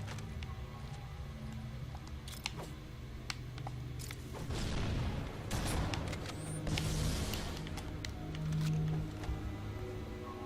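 Grenade explosions burst in the Halo: Combat Evolved video game, a cluster of low rumbling blasts in the middle amid scattered sharp in-game clicks and shots, moderately loud with no talking.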